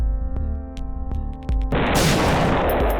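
A bomb goes off on the shopkeeper in The Binding of Isaac: after a few light tonal game blips, a loud, dense burst hits and rolls into a sustained, crackling explosion roar that stays up close and fills the end.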